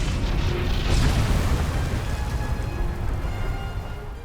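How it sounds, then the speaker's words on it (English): A single deep explosion booms in the video game Star Wars: The Old Republic, a loud low blast that swells near the start and then rumbles and fades slowly. "Cool guys don't look at explosions, apparently."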